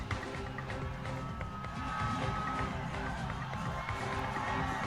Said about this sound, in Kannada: ಜೈಕಾರ ಕೂಗ್ತಾ ಇದ್ದಾರೆ.